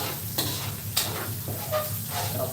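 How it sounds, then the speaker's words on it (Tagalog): Ginger, garlic and onion sauté in a hot pan, hissing steadily with a close, bright sizzle punctuated by a few sharp scraping strokes of a spatula. "Ginibisa na yung luya,"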